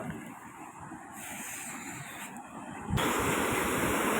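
Water rushes in a steady, broad roar over the long spillway of the village lake at Bonala Kondapur, growing noticeably louder and fuller toward the end.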